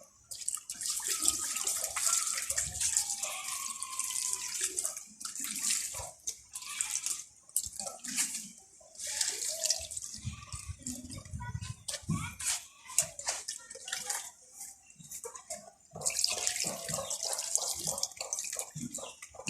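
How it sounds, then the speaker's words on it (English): Water poured onto sawdust in a planter made from a waste car tire for growing onions, heard as irregular splashing and trickling bursts with short pauses between pours, close and fairly quiet. "you need to add adequate amount of water so that it can germinate faster"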